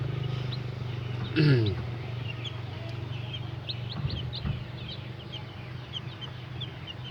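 Day-old chicks just separated from their mother hen give scattered, faint high cheeps over a steady low hum, with one brief louder call early on.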